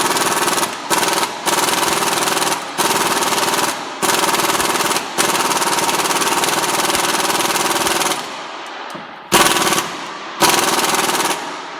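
An impact wrench hammers at the balancer pulley bolt on a Honda 3.5L engine in loud, sustained rattling bursts separated by brief pauses, ending in a few shorter blasts.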